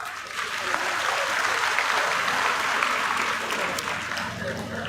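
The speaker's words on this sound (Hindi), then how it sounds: "उन महापुरुषों के लिए जोरदार तालियां" Sustained applause from a large political rally crowd in Haryana, a dense, steady clapping wash holding at full strength throughout with faint voices mixed in.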